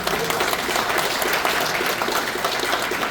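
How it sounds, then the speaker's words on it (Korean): Audience applause at a political movement's launch ceremony in a press club hall, a dense, steady wash of many hands clapping at even loudness throughout, with no talk over it. "박수 한번 주시기 바랍니다"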